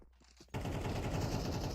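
An AK rifle opens up in Counter-Strike, a sudden burst of rapid automatic fire that starts abruptly after a moment of quiet and continues steadily, loud and close.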